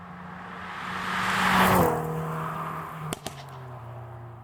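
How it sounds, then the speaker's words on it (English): A 2020 Hyundai Veloster N hot hatch drives by, its engine swelling as it accelerates and then settling into a steady lower hum, with a couple of brief knocks near the end. "Now, let's go for a drive."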